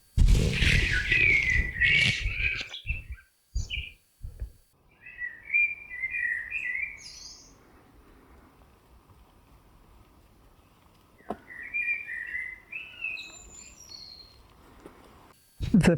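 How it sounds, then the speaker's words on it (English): Evening birdsong in a Karelian forest: clear chirping and whistled phrases from a nearby bird recur in separate bursts, with quieter stretches of near-silence between them and a few brief sharp sounds at the start and end. "Evening bird singing."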